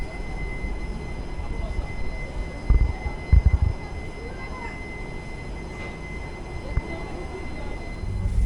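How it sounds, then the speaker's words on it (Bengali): Sri Jagannath Express passenger train running just after leaving Kharagpur Junction toward Puri: a steady broadband carriage rumble heard from inside, with a few heavier clunks and thumps near the middle. "সবে খড়গপুর ছেড়ে পরবর্তী স্টপেজের দিকে ট্রেন ছুটছে।"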